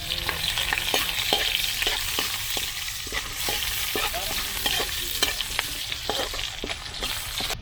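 Garlic and onion fry in a pan with a steady sizzle, punctuated by frequent sharp scrapes and taps of a utensil stirring, close and continuous throughout.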